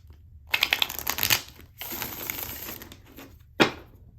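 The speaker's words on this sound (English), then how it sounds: "Let's just give this one more good shuffle." Tarot cards are shuffled by hand in short, crisp riffling bursts, close and fairly loud, with a brief pause and a final snap of the deck near the end, no voices.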